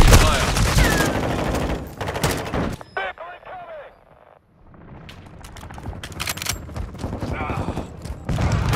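Battle gunfire in Call of Duty: Modern Warfare II: dense, loud bursts of automatic fire and heavy impacts, then a brief lull with radio-style callouts before the shooting builds again, mixed with mechanical clatter and voices throughout.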